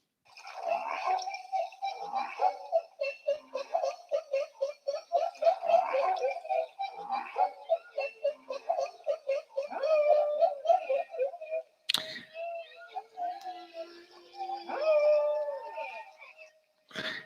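Humpback whales making social calls rather than song: a long run of varied moans, whoops, groans and squeaks, close and clear, with brief pauses and a sharp click or knock near the end, plus one short rising song-like note.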